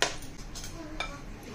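Sugar is stirred into crushed lemon pickle, producing a short burst of close spoon clinks and scrapes against the bowl, with a faint hum underneath.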